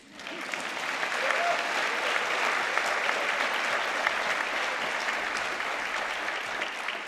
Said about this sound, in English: You can clap again now.